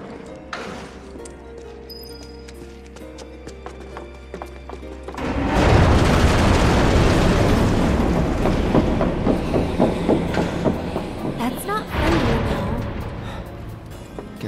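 A train in the Final Fantasy VII Remake video game, bound for the Sector 7 slum and train graveyard, starts with quiet clicks and a low hum, then rolls loudly with steady rhythmic clacking and rumble.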